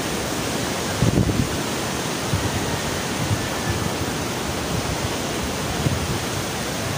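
Morning waves wash onto a beach shore as a broad, continuous rush of surf, fairly loud and steady, with light wind buffeting and no voices.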